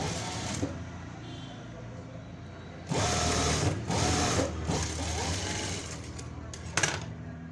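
A sewing machine stitches a folded lehenga princess-cut blouse lining in bursts of rapid, steady mechanical whirring, close and fairly loud, with brief pauses between runs.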